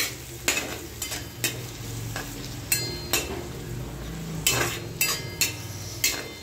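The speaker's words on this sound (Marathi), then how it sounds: "त्याला थोडंसं टमॅटो थोडंसं नरम होईपर्यंत फ्राय करून घ्यायचं आहे आपल्याला" Tomato and coriander fry in a pan for spicy egg bhurji, a steady sizzle punctuated by regular sharp scrapes and clacks of the spatula against the pan.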